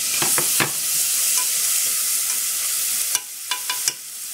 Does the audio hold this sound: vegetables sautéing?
yes